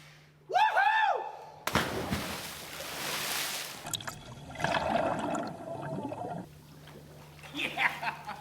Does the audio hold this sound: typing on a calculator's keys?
no